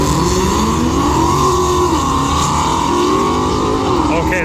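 A Ford Mustang at a drag strip roars steadily at high revs, a loud, sustained engine drone that rises slightly in pitch, with crowd noise and voices underneath.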